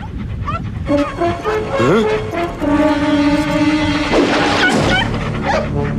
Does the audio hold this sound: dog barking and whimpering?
yes